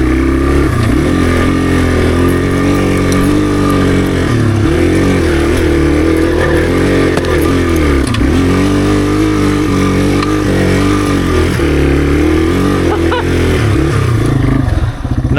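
A Yamaha TW200 motorcycle, a cheap worn-out bike brought back to life, thrums loudly while being ridden over wet grass, its single-cylinder engine pulsing and swelling in repeated throttle surges close to the microphone.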